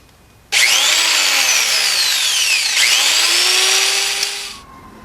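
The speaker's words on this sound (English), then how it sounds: "I've got a close quarters drill because it is a little tight in here. So go ahead and start drilling our hole." A close-quarters power drill whines loudly and steadily for about four seconds drilling a hole in a tight space in a Pontiac Fiero, pitch dipping briefly as it bites in, close by, then winds down.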